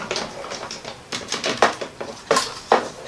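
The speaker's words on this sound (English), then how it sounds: "just popping that through my die cut machine" A die cut machine feeds card through with a series of clicking, clattering mechanical bursts, close and fairly loud, with no talking.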